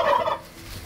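Turkeys gobble inside a homestead barn split between chickens and turkeys, a brief loud burst of warbling gobbles up close that fades quickly into quiet.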